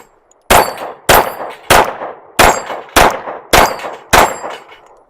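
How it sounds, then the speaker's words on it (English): Rost Martin RM1C pistol firing at a steel plate rack: seven loud, sharp shots at a steady pace, each followed by the bright, ringing clang of a struck steel plate, with no talking. "Let's try shooting the plate rack some."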